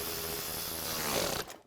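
An impact driver hammers briefly at a fan clutch bolt on a Mitsubishi/Dodge 2.6L engine, a quiet, rapid rattling burst that cuts off abruptly, with no talk.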